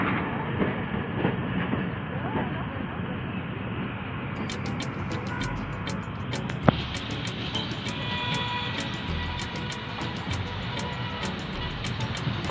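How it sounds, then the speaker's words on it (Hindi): The 7 Up Tezgam Express pulling into Wazirabad Junction in Pakistan, a broad rumbling roar of a passing train with rhythmic wheel clicks and metallic rail clatter, heard continuously and fairly close. "वज़ीराबाद जंक्शन पर अराइवल हो रहा है कराची और रावलपिंडी के दरमियान चलने वाली 7 अप तेजगांव"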